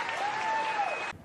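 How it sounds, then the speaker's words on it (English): Cricket crowd applauding a fantastic Ellyse Perry shot, a brief burst of dense clapping and cheering that cuts off sharply after about a second. "put your glasses down so that you can applaud that"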